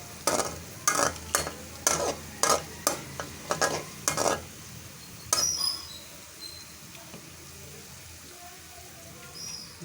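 Half a spoon of cumin seeds sizzles in light-brown frying onions. A spoon strikes the pan in a run of sharp scraping strokes, then a steady soft hiss carries on alone.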